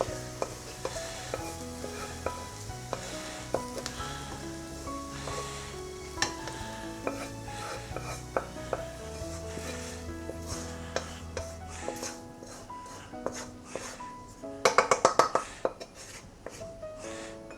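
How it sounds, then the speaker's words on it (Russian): Chicken liver sizzles and crackles in a hot pan, with scraping stirs and clinks throughout, then a louder burst of frying near the end. "И теперь мы будем жарить нашу куриную печень."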